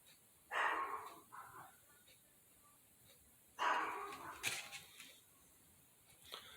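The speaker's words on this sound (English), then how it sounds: "Dogs are going crazy." Dogs bark in two clusters of sharp barks at a distance, with a faint steady hum in the quiet gaps between.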